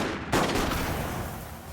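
Gunfire effect following an order to open fire in a Necromunda tabletop game, a loud burst that begins abruptly and fades into a sustained, noisy rumble of shots.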